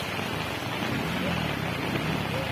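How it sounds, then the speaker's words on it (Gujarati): Heavy, steady downpour in the village of Lalavadar, Amreli, makes a dense, continuous hiss and patter close by, unbroken throughout with no voices. "1 કલાક ને 10 મિનિટ સતત અવિરત વરસાદ વરસી રહ્યો છે"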